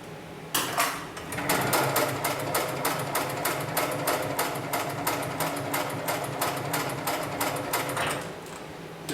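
A heavy-duty sewing machine stitches harness and sling material, running at a steady rapid mechanical chatter with evenly spaced needle thumps that continue loud and close throughout, with no talking.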